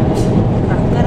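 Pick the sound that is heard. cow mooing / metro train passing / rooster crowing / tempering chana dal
metro train passing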